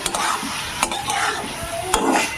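Mushrooms being stir-fried in a pan, with a steady loud sizzle and a few sharp scraping stirs of a utensil against the pan, close by and without speech.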